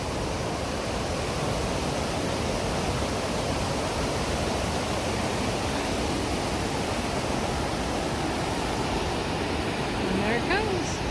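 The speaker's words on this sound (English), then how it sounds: "That water's just going so ridiculously fast." Fast water rushes through an aqueduct beneath a bridge on a Sioux Falls bike trail, a loud unbroken roar filling the whole stretch, with a brief faint chirp near the end.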